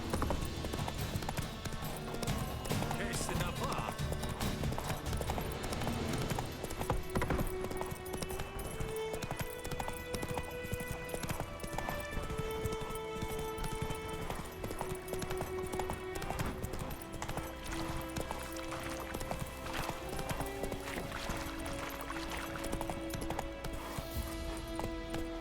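A horse gallops in The Witcher 3: Wild Hunt, its hooves clip-clopping in a rapid, unbroken rhythm over sustained background music, the pounding staying close and even throughout.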